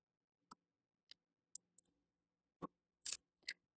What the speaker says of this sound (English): Then we cut the yarn.